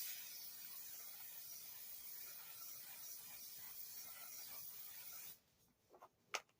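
Setting spray misted onto a face, a long steady hiss for about five seconds that stops abruptly, followed by a few faint clicks of the nozzle.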